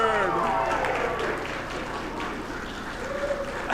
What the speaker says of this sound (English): Round of applause for Dennis and Deanna